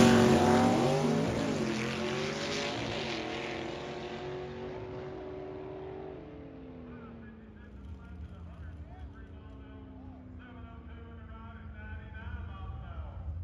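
A 1956 Chevy drag car with a tunnel ram makes a pass down the drag strip, its engine roaring loud and close at the start, then fading as it pulls away into the distance.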